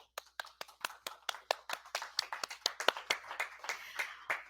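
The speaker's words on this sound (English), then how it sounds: "a round of applause" Applause at a university's 50th anniversary gala, heard as distinct, fairly close claps that build from sparse single hits into a quicker, denser patter.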